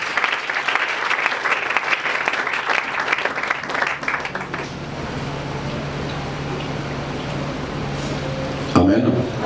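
A church congregation claps loudly and steadily for several seconds before the applause fades into a quieter room hum, ending with a brief knock or handling sound.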